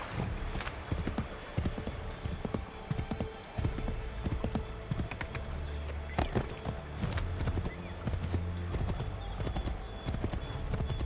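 In Assassin's Creed 3, a horse's hooves clatter in a fast, continuous galloping rhythm, close and steady for several seconds, with other game sounds underneath.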